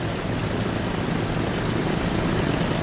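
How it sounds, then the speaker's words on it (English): An airplane arrives at a night-lit airport in the video game Transport Fever 2, its engines making a steady, loud broadband roar that holds unchanged throughout. "here comes our plane"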